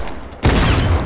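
A single loud burst of gunfire from the video game Fortnite cuts in suddenly, attempting a trick shot, with a sustained boomy rumble trailing after the blast.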